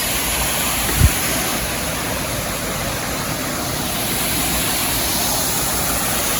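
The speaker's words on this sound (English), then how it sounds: "waterfalls." Steady, full rush of falling water roaring evenly throughout, with a single brief low thump near the start.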